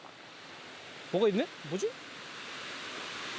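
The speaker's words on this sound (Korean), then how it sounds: "아니 근데 산속인데 물소리가 들리네." Water runs at a trout farm deep in snowy winter mountains, a steady, fairly soft rushing hiss that fills the whole clip while a person briefly speaks over it.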